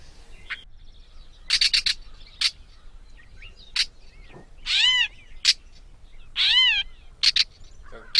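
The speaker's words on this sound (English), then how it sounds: "That's a catbird" A gray catbird gives a series of short scratchy chips and several drawn-out mewing calls, scattered irregularly against a quiet background.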